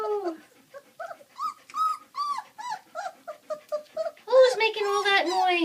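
Three-week-old puppies whimper and yip in a rapid series of high, wavering cries, close and fairly loud, building into a denser chorus near the end.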